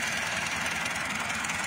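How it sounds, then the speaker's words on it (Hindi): A sugarcane planting machine from Al-Muiz Industries Limited runs on a farm field, its engine giving a steady, continuous rumble with a broad noisy hiss and no breaks or talk. "ये गन्ना लगाने वाली मशीन है अलमुइज़ इंडस्ट्री लिमिटेड की तरफ से"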